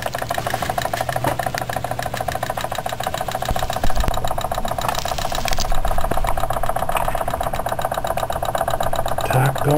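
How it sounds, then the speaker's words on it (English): A Jensen 75 toy steam engine with a Mk-II superheater idles with a steady, fast mechanical chatter and a constant hum, loud and close, holding an even rhythm throughout. "Just got the engine idling so it stays warm."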